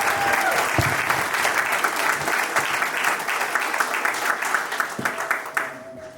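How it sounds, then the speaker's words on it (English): A large audience at a college graduation ceremony gives a sustained, loud round of applause, a dense wash of many hands clapping that thins out toward the end, with a brief whistle or voice near the end. "So let's give them another round of applause."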